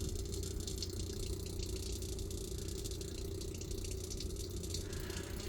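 Engine coolant draining from a 2016 Hyundai Veloster DCT Turbo, a steady rattling gush of liquid pouring into a pan, constant and close for several seconds without talk.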